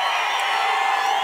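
A large outdoor crowd at a Telugu Desam Party political rally in Aluru cheers in a dense, continuous roar, loud and sustained without a break.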